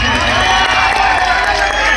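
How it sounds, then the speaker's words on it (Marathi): An audience at an Adivasi cultural performance in Palghar claps loudly in a dense, continuous roar that stays steady and close for two seconds. "जोरदार टाळ्या वाजवायच्या आहेत"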